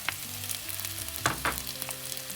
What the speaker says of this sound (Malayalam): ഇഞ്ചി ഉള്ളിയെല്ലാം 2-3 മിനിറ്റ് വഴറ്റി.